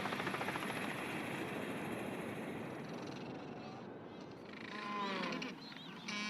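A helicopter's rotor drones steadily with a thick pulsing chop over Antarctica, easing slightly midway before swelling again, while faint animal calls come through near the end.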